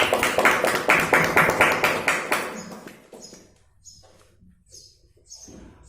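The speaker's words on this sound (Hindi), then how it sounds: "एक जोरदार ताली सुनो" Loud round of clapping from a meeting crowd in a hall, brisk and dense for about three seconds, then fading into scattered quieter claps and murmurs.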